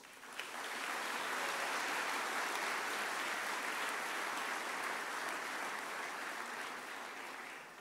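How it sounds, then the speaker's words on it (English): An awards-night audience applauds the coaches in a steady, dense wash of clapping that holds for about eight seconds, sounding slightly distant and uniform throughout. "ask that we all give you a round of applause"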